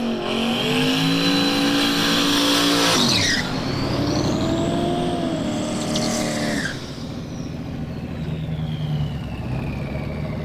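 Unlimited-class drag race cars, one a Mustang, launch and roar loudly down a drag strip, with a tire squeal and a sweeping engine note that fades into distant rumble and crowd ambience.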